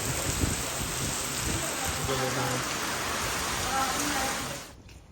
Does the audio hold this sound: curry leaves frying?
no